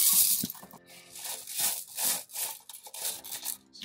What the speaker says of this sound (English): So I'm just going to rinse it first through to get any sand or whatever off.